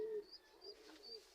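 Racing pigeons, one with a one-eye cold, cooing softly in a loft: a few faint, low murmuring coos in quiet surroundings.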